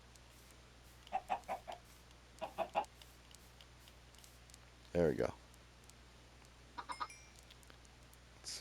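Chickens in Minecraft cluck in short bursts spread across several seconds, mostly soft with one louder squawk in the middle, over a quiet background, with a brief spoken remark.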